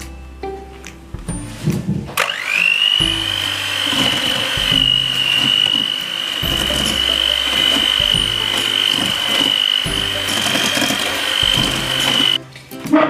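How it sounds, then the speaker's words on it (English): Electric mixer whisking rainbow cake batter with an egg added, a steady high motor whine running continuously for about ten seconds after a brief start, with clattering knocks of the bowl underneath. "put this away and start to whisk again"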